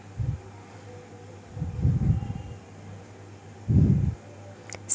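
A sewing machine stitches fabric pieces with a half-inch margin while making a latkan. Three short, low whirring bursts of stitching are separated by pauses, with a faint steady hum underneath.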